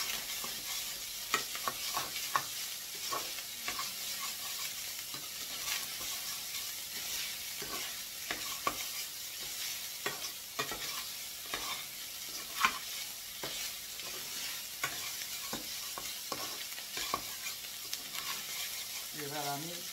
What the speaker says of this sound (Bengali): নাড়াচাড়া করতে থাকি